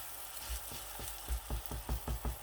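A mooli paratha fries in butter on a pan, a soft steady sizzle running underneath a series of low rhythmic taps or presses that repeat about every quarter second in the second half, no one speaking.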